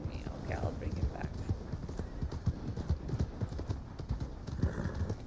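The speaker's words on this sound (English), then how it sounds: "This horse is following me." A horse in Red Dead Redemption 2 clip-clops at a steady walking rhythm, its hooves thudding close and even throughout over a soft ambient bed.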